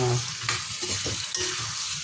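Eggplant pieces frying in hot oil with salt and turmeric, a close, steady sizzle broken by scraping strokes of a stirring spoon.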